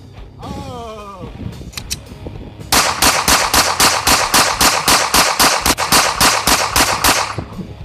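Pistol fire from a Rex Zero 1 and a Glock 19, a rapid, evenly spaced string of loud, sharp cracks close by, preceded by a brief squeaky creak and a few scattered clicks.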